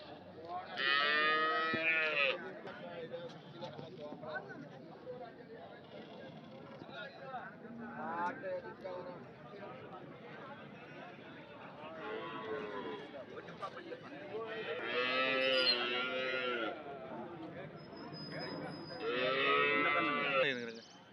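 Dairy cattle low and moo at the Anthiyur cattle market, with several loud bellowing calls rising above steady crowd chatter and haggling voices throughout.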